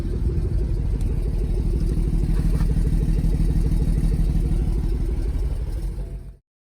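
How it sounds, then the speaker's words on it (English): A BMW B58/B48/B38 engine idles with a misfire, running nearby at a steady, loud level with an uneven, lumpy beat and periodic skips before it cuts off abruptly. "Here's what it's likely going to do when it's missing. You can hear it kind of sounds like it's skipping."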